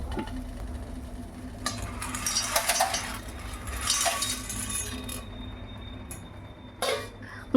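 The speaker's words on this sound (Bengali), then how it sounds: "গরম জলের মধ্যে পাস্তা দিয়ে ভালোভাবে নেড়ে চেড়ে দিচ্ছি, যাতে পাস্তাগুলো একটার গায়ে আর একটা লেগে না যায়।" Pasta is stirred in a pot of hot water, with soft swishing and a few metallic clinks of a utensil against the pot, close and fairly quiet, followed by a faint steady tone.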